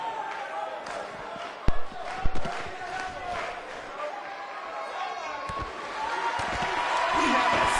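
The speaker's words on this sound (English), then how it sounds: "We have a sold-out record-setting crowd here for BCW tonight." Arena crowd in the WWE 2K19 wrestling game, a steady roaring wash of fans filling the space, with a couple of loud thuds early on and the crowd swelling toward the end under a commentator's voice.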